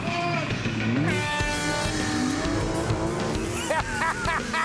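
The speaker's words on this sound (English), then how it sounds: "right foot to the floor on the throttle, and just launch it." A four-wheel-drive race car launches at full throttle, its engine roaring loudly with rising pitch alongside tire squeal and other engines revving nearby during a race start.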